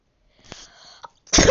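A single sharp, loud sneeze bursts out close to the mic at the end, after a stretch of faint background sounds.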